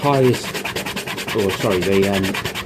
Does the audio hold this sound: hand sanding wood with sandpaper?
yes